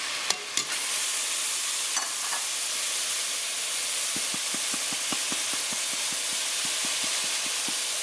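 Seasonings cooking in a pot for Cajun swamp greens and peas, a soft continuous hiss with a couple of early knocks and a later series of light rhythmic stirring taps.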